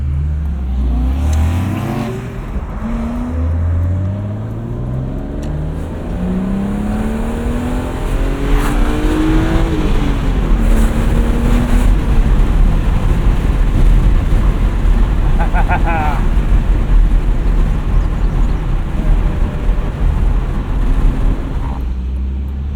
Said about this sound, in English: Doesn't even have a radio, which is perfect because you just get to listen to that inline six.